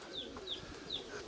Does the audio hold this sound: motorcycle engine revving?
no